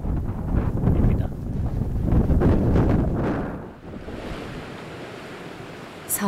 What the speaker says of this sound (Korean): 하얀 파도가 바위에 철썩이고